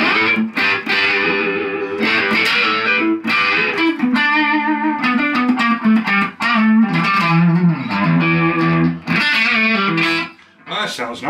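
Electric guitar, a Flying V with an EMG 85 active neck pickup, playing a clean, melodic run of notes with sustained chords, bright and close, with a slight chorus-like shimmer throughout.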